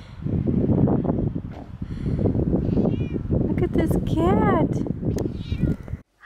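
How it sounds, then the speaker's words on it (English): A cat meows a few times close by, its rising and falling cries mixed in with a person talking to it indoors. "Look at this cat."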